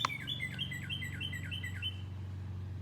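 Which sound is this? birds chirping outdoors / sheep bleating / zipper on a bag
birds chirping outdoors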